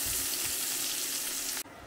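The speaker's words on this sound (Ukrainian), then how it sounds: "Цибулю будемо смажити до золотистого кольору." Chopped onion fries in melted butter for a Ukrainian soup base, giving a soft, continuous sizzle and crackle that cuts off abruptly near the end.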